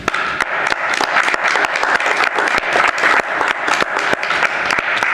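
Hearty audience applause for the Bonnet Springs team at a city commission meeting, a dense, steady wash of many hands clapping that stays loud and close throughout.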